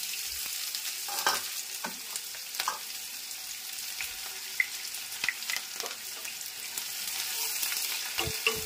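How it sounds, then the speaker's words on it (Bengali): Sliced onions hit white cooking oil already hot in a wok on a high flame, giving a steady, close sizzle with light crackles and occasional stirring scrapes, with no voices. "এরপর আমি পেঁয়াজগুলোকে ফ্রাই করার জন্য দিয়ে দিলাম।"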